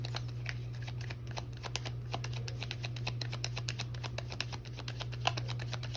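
Tarot cards shuffled by hand in a quick, steady run of crisp riffling flicks, close and continuous over a low steady hum, with no talk.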